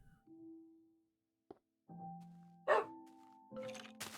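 Several pet dogs bark and yip indoors in short separate outbursts with pauses between, some higher and whiny, close and moderately loud.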